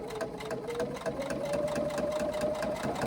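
Industrial sewing machine top stitching a tote bag, a fast, even run of mechanical ticks over a steady motor hum, close and continuous throughout.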